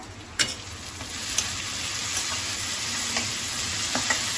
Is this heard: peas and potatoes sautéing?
yes